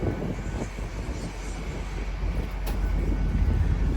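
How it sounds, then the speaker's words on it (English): A GWR train rolls into the station, a steady low rumble and broadband roar that swells slightly toward the end, with no voices over it. "there's a few trains coming in now"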